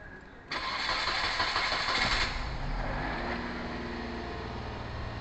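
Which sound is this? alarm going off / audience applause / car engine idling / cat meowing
car engine idling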